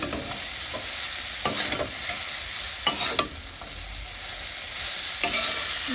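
Chow mein noodles stir-fried and tossed with spices in a pan, a constant soft sizzle punctuated by several sharp scraping and clanking strokes of the spatula, close and with no voices.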